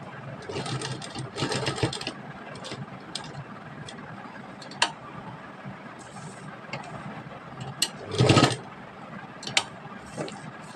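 A sewing machine stitching the corner of a blouse sleeve runs in short, quiet bursts with a light mechanical whir and ticking, separated by pauses and sharper handling clicks.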